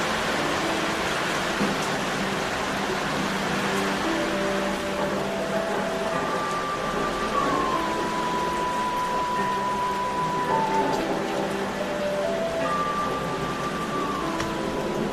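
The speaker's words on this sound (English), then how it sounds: "Damn, listen to the rain funnel." Steady rain hisses and patters continuously, with faint whistling tones drifting in the middle, and no one speaking.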